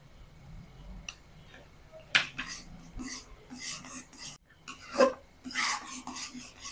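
A spoon or spatula stirs halwa with ghee in a pan, giving soft, irregular scraping and ticking strokes at a steady working pace, fairly quiet and close.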